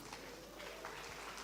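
Audience applause at an opening ceremony, a steady wash of clapping filling the room at moderate loudness throughout.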